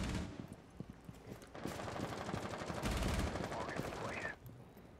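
Rapid bursts of automatic fire in a first-person shooter, tight regular shots stuttering at first and then running into a continuous stream before cutting off, fairly quiet in the mix.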